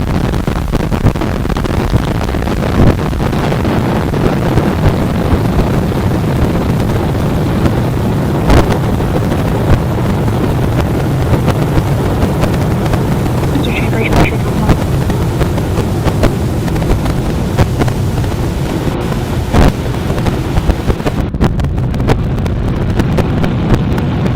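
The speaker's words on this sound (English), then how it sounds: "33 Raptor engines powering the first stage." SpaceX Starship's first stage roars through launch on its 33 Raptor engines, a loud, unbroken broadband rumble with crackling bursts and wind-like buffeting, no voices.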